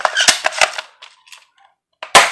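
Sharp, loud snapping shots from a spring-powered AK47 airsoft rifle, a quick cluster early on followed by quieter mechanical clicks as the BBs run out and one final loud crack.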